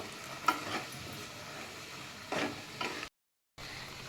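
Pineapple chutney bubbling in a pan on a gas stove, a faint, steady simmer with soft pops and two brief stirring scrapes, quiet and close, with no voices.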